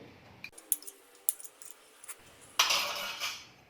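Crushed garlic, chili flakes and other ingredients mixed in a bowl with a spoon, giving a few light metallic clinks and scrapes followed by a louder burst of stirring near the end.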